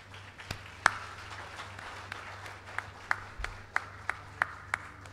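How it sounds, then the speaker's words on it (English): Scattered audience applause at a bank's 70th anniversary launch event, quiet and thin, with a few distinct individual claps ringing out at irregular intervals over a low steady hum. "One more time, a round of applause."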